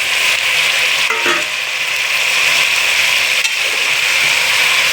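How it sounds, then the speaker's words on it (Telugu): Tripe (boti) with spices fries in a pan, giving a loud, dense, continuous sizzle up close, with faint stirring scrapes and no speech. "బాగా వేగించాలండి పచ్చివాసన వాసన పోయిందాకా బాగా వేగించాలి"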